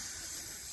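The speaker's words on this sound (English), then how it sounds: "Just heat up get that steam going." Steam hisses from a damp, doubled-over rag pressed under heat during a table repair, a steady close broadband hiss with no pauses and no talking.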